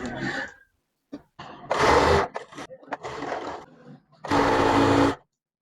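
A sewing machine stitches a blouse back neck, running in short bursts of loud, close whirring separated by pauses, while someone talks in Tamil between the runs.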